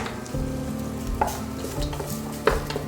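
Chopped onion and garlic fry in butter in a pan for a chicken pizza topping, with a steady close sizzle and two distinct spatula knocks against the pan.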